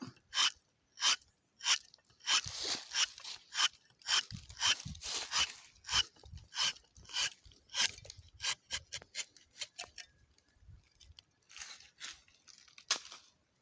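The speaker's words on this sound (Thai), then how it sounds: "ฟังเสียงมีดนะครับ" A rubber tapping knife scrapes and rasps against rubber tree bark in quick repeated strokes, close and crisp, with short pauses between bursts.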